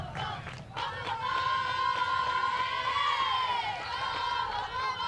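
A big crowd at a girls high school softball game, a constant wash of cheering and shouting with excited voices rising and falling throughout.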